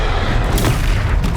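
A Confringo fire spell bursts in Hogwarts Legacy combat as a loud, dense, booming explosion filling the whole moment, with a sharper crackle near the end.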